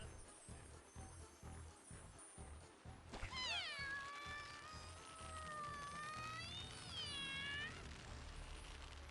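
Cat-like meowing voice from the video game Animal Crossing: a rising, wavering high-pitched character voice sounds out clearly over background game music, with a second stretched meow-like phrase following a few seconds later.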